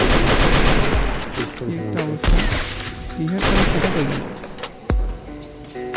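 Gunfire rips through a Free Fire match: loud, close bursts of rapid machine-gun shots and single sharp cracks repeat throughout, over busy game noise.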